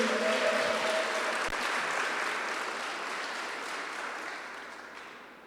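Sustained applause from a large church congregation, loud at first and slowly fading, with no voices over it.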